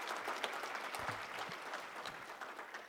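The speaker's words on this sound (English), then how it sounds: "I would like to ask you to applaud them." Audience applause at a closing ceremony, a steady wash of many hands clapping at moderate level throughout, with no voices over it.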